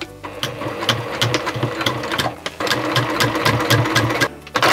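Sewing machine stitching through thick, layered fabric (an obi sash being made into a hat, about 1 cm seam allowance), running in steady rapid bursts with brief pauses, close and fairly loud, no talking.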